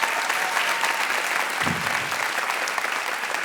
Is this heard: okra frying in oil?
no